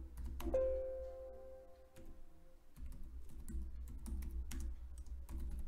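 Keys clatter in quick irregular bursts on a computer keyboard during a Power BI DAX lesson, close and moderately loud over a steady low hum, with short pauses between runs of typing.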